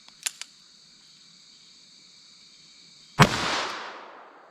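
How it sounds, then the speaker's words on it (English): A single loud gunshot from a .327 Federal Magnum firing a Hornady XTP hand load, a sharp crack outdoors with a rolling echo tail, after a couple of small clicks and faint insect chirping. "let me set that all back up and hit it with the 327 Federal Magnum"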